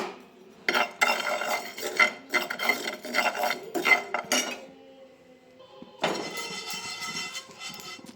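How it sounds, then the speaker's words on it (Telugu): Rice being lightly dry-roasted in a pan scrapes and rattles as a utensil stirs it in busy bursts, pausing for a few seconds before the stirring resumes, close and fairly quiet, with no talk. "నెక్స్ట్ అయితే మనం తీసుకున్న బియ్యం కూడా లైట్గా వేయించుకుందాము"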